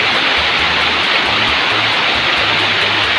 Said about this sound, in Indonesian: Nah, ini masih ada air terjun kecilnya.